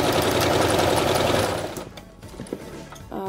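A sewing machine runs steadily, stitching a seam down the middle of small doll jeans, a loud continuous whirr that stops after about a second and a half, leaving faint handling noises.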